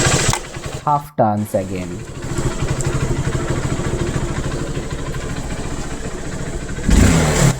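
A 2009 BS2 motorcycle engine running on E20 petrol with a rich mixture, revving briefly near the start, then settling into a steady, close, throbbing idle that slowly falls, with someone speaking briefly over it.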